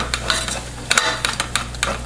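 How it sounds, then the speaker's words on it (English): Éclair choux dough is stirred in a pan, making a series of short scraping, slapping strokes in an irregular rhythm over a steady low background hum, close up and with no talking. "again, stir it up."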